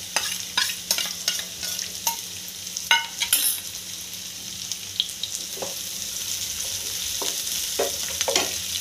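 Onion and chili pieces fry on a tawa with lightly salted goat liver over medium heat, a close, continuous sizzle broken by a string of scraping, tapping spatula stirs, with no voices.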